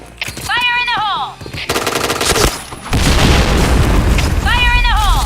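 Video game firefight with a loud grenade blast followed by dense automatic gunfire, bursts of rapid rifle shots and booms, close and continuous, with a shouted voice over the action.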